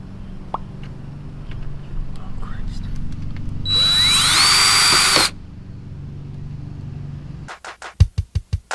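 A power drill whirs steadily for about a second and a half, close and loud, boring a hole for a Mazda Miata Hurst shift boot, followed by a quick series of tapping knocks.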